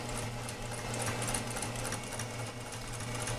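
A sewing machine chain-stitches through a piece of scrap fabric, its needle running in a fast, steady mechanical whir from start to finish with no pauses and no voices.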